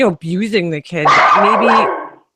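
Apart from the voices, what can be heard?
dog barking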